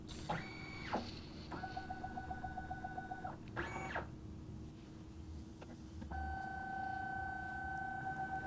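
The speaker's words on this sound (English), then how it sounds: "we're just going to click preview so that it will give us a pre-scan of everything" A film scanner pre-scans a 35mm negative strip, its motor whining in steady stepped tones broken by short rattling carriage movements over a constant low hum, close and with no talking.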